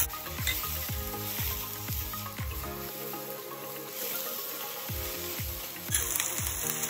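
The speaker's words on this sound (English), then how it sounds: "I'm going to add back in the broccoli" Broccoli goes back into a hot pan with ginger and garlic for a chicken and broccoli stir-fry, giving a steady close sizzle with stir-fry clatter and a few scraping strokes, and no talking.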